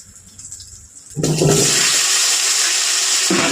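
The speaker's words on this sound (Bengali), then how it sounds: "ওই তেলেই আলুগুলো ভেজে নেব" Halved potatoes hit hot reused oil with a sudden, loud sizzle that holds steady and close after a quieter moment.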